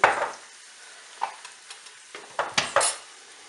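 A spoon scrapes and knocks around a pan as flour is mixed into a fish pie sauce, with an irregular run of close stirring strokes over a faint sizzle and no talking.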